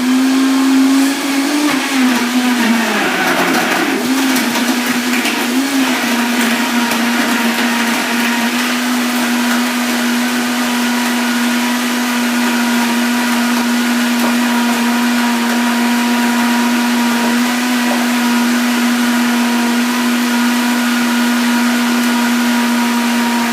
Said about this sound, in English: I'm going to turn it on, push it down in there, and you'll see how quickly the Vitamix gets it going.